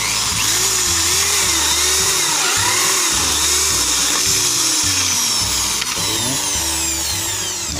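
A power drill with a 4.4 bit whines loudly and continuously, its motor pitch rising and falling in repeated bursts as it bites into material.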